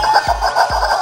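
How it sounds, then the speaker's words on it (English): Two quick, sharp squawks from a rubber chicken in a frozen yogurt shop, evenly spaced and close by. "What would this yogurt store be like without rubber chickens?"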